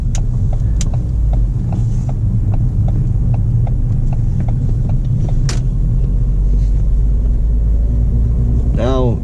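Manual car making a slow U-turn, its engine a steady low rumble throughout with faint regular ticking, likely the turn signal, and a brief rising whine near the end.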